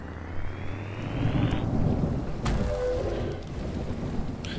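Rain and rolling thunder in the horror video game Horror Tales: The Beggar, a loud steady wash of rain with a deep rumble swelling and fading over several seconds, no voices.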